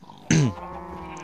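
A single short sheep bleat from Minecraft, a sharp wavering baa lasting about a quarter second, rises loud over a quiet steady background hum.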